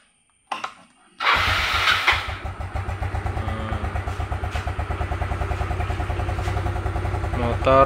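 A Yamaha Mio motorcycle engine, freshly serviced carburetor, sputters to life after a couple of tries, then settles into a steady, rapid idling putter close by.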